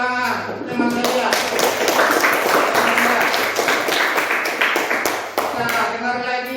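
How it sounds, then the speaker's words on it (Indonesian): A classroom of students claps for a classmate, a brisk burst of many hands that holds steady for about six seconds before fading. "tepuk tangan untuk teman saya"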